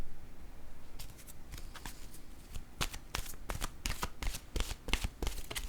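Tarot cards are shuffled by hand in a quiet room, a run of crisp riffling flutters and soft slaps that grow busier and closer toward the end.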